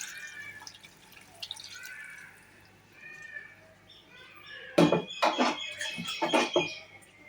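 Quiet room, then water splashes into a pot in several uneven gushes during the last couple of seconds, close and fairly loud.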